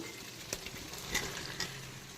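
Fried elephant foot yam hits a pan of cooked-down spices for a prawn curry, giving a soft steady sizzle with a few light knocks and scrapes and no speech.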